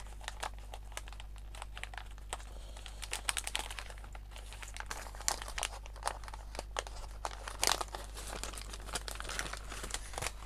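Crinkly wrapping paper being handled while a package is unwrapped, close and fairly quiet, in irregular rustling bursts over a steady low hum, with no talking.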